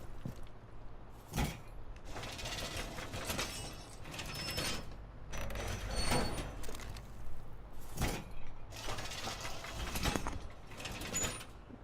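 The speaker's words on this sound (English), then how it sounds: "once you get here, reinforce these two walls" Wall reinforcement in a tactical shooter video game produces repeated loud mechanical clanks and sliding metal bursts, several separate heavy hits spread through the span, with no talking.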